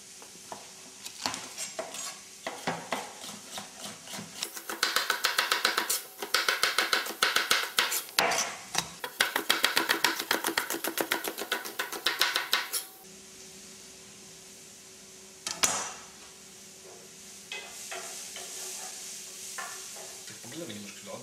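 Sweet pepper is chopped for a Turkish salad, with rapid, steady knife strokes on a board coming in bursts and pausing between them, plus occasional clinks of kitchen utensils.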